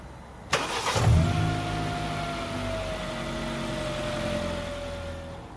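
A car engine cranks with a sharp starter burst, then catches and settles into a steady idle hum, close and alone.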